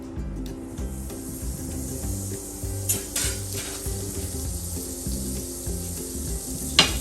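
Butter melting in a pan with a steady close sizzle and occasional soft scraping, heard over quiet background music.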